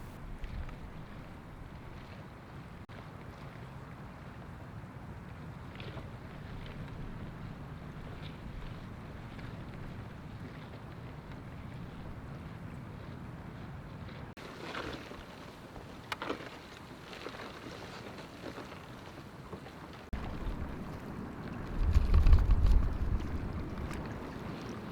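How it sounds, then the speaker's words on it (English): Steady, roaring wind buffets the microphone over open water on a bay of ice-cold sea, with a heavier rumbling gust building near the end. "Out on the bay the wind is blowing your mind off."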